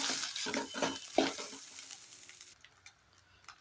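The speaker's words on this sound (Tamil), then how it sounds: "அதே மாதிரி கிளறி விடுங்க" Cooked rice for egg fried rice is stirred in a pan, with rhythmic, close scraping and sizzling strokes that fade to sparse, quieter taps.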